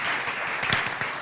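Crowd at a luncheon applauding the lunch preparers and farmers, a dense, even burst of many hands clapping throughout, fairly loud and steady.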